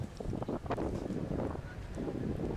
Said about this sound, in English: Huge gusts of wind coming through now.